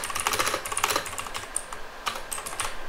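Quick, uneven bursts of keystrokes on a computer keyboard as a command is typed, close and clear, with short pauses between clusters of taps.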